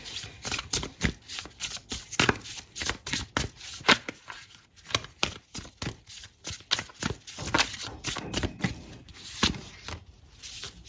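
Tarot cards being shuffled by hand, a steady run of crisp riffling slaps and flutters repeating through the whole stretch, close and fairly loud with no talking.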